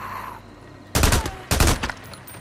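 Gunfire from the video game Days Gone comes in two loud, sharp bursts of rapid shots, each lasting about half a second, following a quieter background tone.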